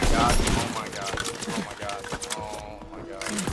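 Karabin rifle fire in a World War Two video game comes as sharp, rapid cracks that crowd together in a quick burst. A player talks over the shots.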